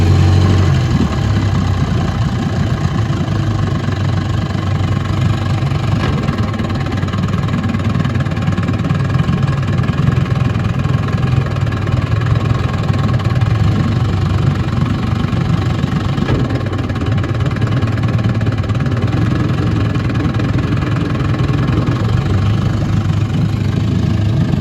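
A 1958 Gambles Hiawatha 10 hp outboard built by Scott Atwater runs steadily at a low, throbbing idle, its loud mechanical drone continuing without a break and with no talk over it.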